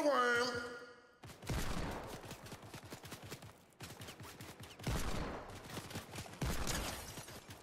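Rapid gunfire in Fortnite, dense bursts of shots in several volleys separated by short pauses, moderately loud, with a brief voice at the start.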